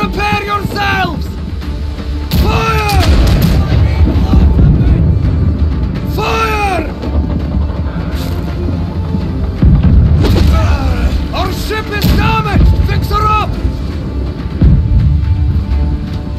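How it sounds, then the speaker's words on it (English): Deep cannon booms from naval battle gameplay in Blackwake, repeated thumping blasts rolling under continuous battle noise, with voices shouting over the fire. "Sound of the cannon!"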